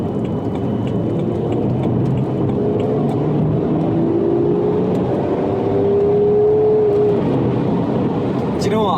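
A BMW 4 Series diesel car driving with its dampers and gearbox in sport mode, a steady continuous engine and road drone throughout with a slowly rising whine, under faint talk.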